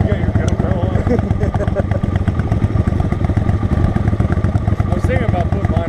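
Honda Grom motorcycle on a winter cruise, its small engine giving a steady, loud, close rumble with rattling thumps throughout, and a voice speaking over it.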